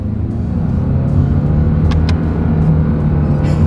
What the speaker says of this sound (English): It's a CVT. It doesn't sound or feel like you're actually shifting through anything.